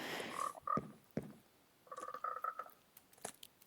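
Frog croaks in a video game garden, a few short, fairly faint croaking calls with gaps between them, over quiet background and no talking.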